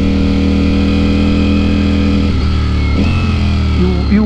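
A Ducati Streetfighter V4 S with a full Akrapovic titanium exhaust rumbles loud and close, its deep steady engine note holding then shifting pitch with brief revs near the end.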